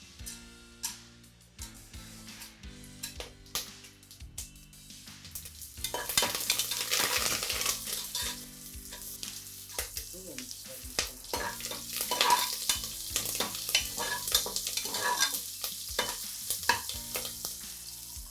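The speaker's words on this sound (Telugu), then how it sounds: "అలాగే పచ్చిమిర్చి, కరివేపాకు వేసుకుంటున్నాం" Whole spices including nutmeg, mace, cardamom and bay leaf sizzle in hot oil in a pan with green chillies and curry leaves, a steady close frying hiss with stirring scrapes that grows fuller midway, no voices.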